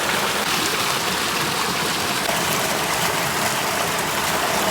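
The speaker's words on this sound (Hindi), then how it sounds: "12 लीटर पानी हमने गैलन में डाला है" About 12 liters of water poured into a gallon container in a field for mixing a crop spray, a continuous loud rushing splash with no talking.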